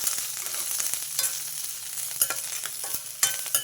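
Dried red chillies, curry leaves and coriander seeds fry in a pan with a constant crackling sizzle, broken by sharp pops and occasional spoon scrapes at close range.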